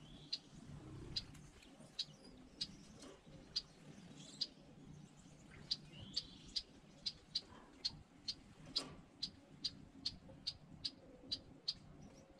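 A male quail calls in an aviary, giving a long series of short, sharp, high chirps at a fairly steady, quickening pace over a low, continuous background rumble, with no voices.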